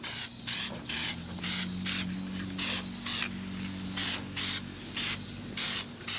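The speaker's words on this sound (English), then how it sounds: "It may help to paint the fog light openings from the back." Short bursts of a spray gun hiss in a steady, repeated rhythm as paint goes onto the fog light openings of a factory Silverado valance outdoors, each pass lasting under a second, over a constant low hum, with no one speaking.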